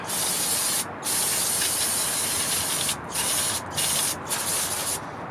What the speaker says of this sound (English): I'm going to spray this off.